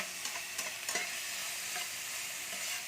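Finely minced chicken sautés in a pan for a homemade chowpan, giving a steady bright sizzle with a few light scraping stirs, close and with no talk.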